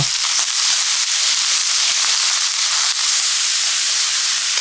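Pork neck sizzles in hot cooking oil in a pan over medium-low heat, a loud, steady, close-up hiss with scattered pops and crackles throughout.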